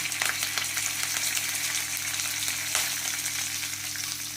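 Mustard seeds, cumin, curry leaves, bay leaf and cloves temper in hot oil for a dum aloo curry, a constant close sizzle and crackle with faint pops, no voices.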